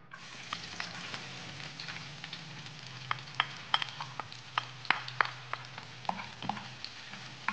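Shrimp sautéing with plenty of garlic and turmeric, a dense crackling sizzle with frequent sharp pops and spatters, steady and close throughout.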